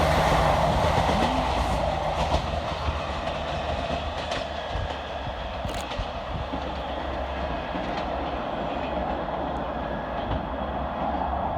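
A Class 158 diesel multiple unit runs through North Queensferry station on the Fife Circle line. The loud, steady rumble of engine and wheels fills the whole stretch, with rail clatter close by.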